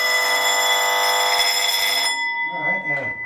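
A loud, steady electronic alarm rings continuously for about two seconds inside an abandoned bunker, then stops and a person starts talking.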